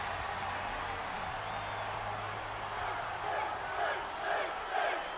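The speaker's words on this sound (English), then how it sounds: "Crowd here tonight, they behind Finn Balor." A wrestling arena crowd in WWE 2K22 roars in a steady, dense wash of cheering, with swells of louder shouts toward the end and a low rumble underneath.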